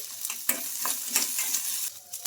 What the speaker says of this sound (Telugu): ఇంకా మనకు మిర్చి అయితే బాగా ఫ్రై అయిపోయినాయి కదా